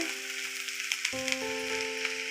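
Cabbage fries in a hot pan with a steady, crackling sizzle, close by, over a faint low hum.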